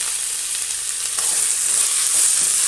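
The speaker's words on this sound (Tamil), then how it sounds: "நல்லா வதங்கட்டும்" Mint, green chili, tomato and coriander sauté in a hot pan for cauliflower rice, giving a steady, loud hiss of frying oil with a slight swell near the end and no voices.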